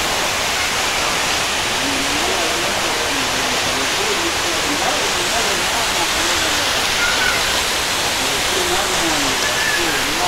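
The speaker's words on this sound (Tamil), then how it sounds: "இதுதான் அந்த வாட்டர் ஃபால்ஸ் பாருங்கள் இவ்வளோ குடியுது தண்ணி." Jalagampari waterfall near Tirupathur roars with a constant broadband rush of falling water, loud and unbroken throughout, with faint birdsong over it.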